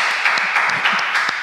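Audience applauding with steady, brisk clapping from a small crowd, fairly close and even throughout, with no pauses.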